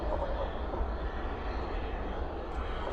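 An airliner lands at night at DFW with spoilers up and thrust reversers deployed, producing a steady, dense rumbling roar that holds at a moderate distance without pause.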